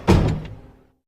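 A store door pulled shut by a woman after wheeling a motorcycle inside, in an audiobook scene: a single close, fairly loud thud with a brief rattle that rings out and fades within a second.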